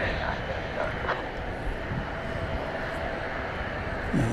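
A passenger plane takes off from runway 18 Right at Dallas/Fort Worth airport at night, its engine roar a steady distant rumble under some faint talk.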